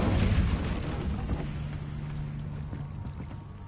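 Incendio fire spell cast in a Hogwarts video game, a loud whooshing burst of flame that rumbles low and fades slowly over a few seconds, with no voice.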